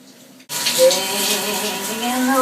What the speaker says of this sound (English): The gas hot water system's working perfectly.